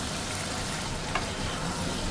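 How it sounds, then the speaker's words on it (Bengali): Meat mixed with fried potatoes fries in a pan with a steady, even hiss of sizzling oil and a brief stir partway through. "আর আলু ভাজার সাথে মিশানো আবার একটু মাংসটা ভেজে দিলাম"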